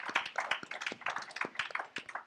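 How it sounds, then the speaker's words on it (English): Audience applause for a pastor's son being welcomed on stage at a church event, a brisk run of uneven clapping from a modest crowd that stays fairly steady and moderately loud throughout. "Put your hands together. Give him a nice big round of applause."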